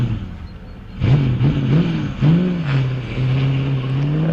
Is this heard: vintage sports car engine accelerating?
yes